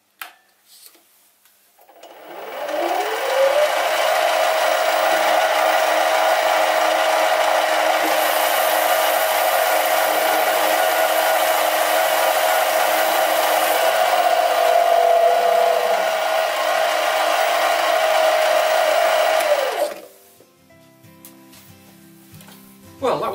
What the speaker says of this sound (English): Using the power feed.